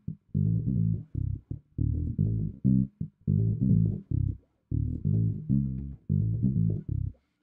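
Bass guitar plays the drive section of a gospel song, a repeated rhythmic line of short, punchy low notes in bursts with brief gaps, played solo.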